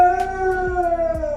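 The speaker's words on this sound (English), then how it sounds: "there's Calder the dog who's serenading my wife who's playing her bagpipes down in the basement" A dog howls along with bagpipes played in a basement, the droning pipe chanter loud and steady throughout with the dog's wavering howl woven in close by.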